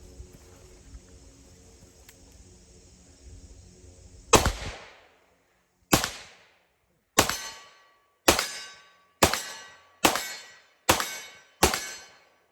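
A Colt Delta Elite 10mm pistol fires SIG ammunition outdoors: eight sharp, loud shots with ringing decay, spaced about a second apart after a quiet lead-in.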